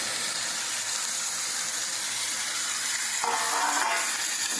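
Chicken sizzling and frying steadily in a pan for a chicken curry with tamarind, with a louder burst of sizzle as tomatoes are added near the end; no talking.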